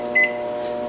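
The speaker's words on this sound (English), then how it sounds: "Now all you have to do is put this bad boy in the microwave." Microwave oven humming steadily as it runs, with one short, clear beep near the start over the constant drone, heated while cooking a low carb pizza.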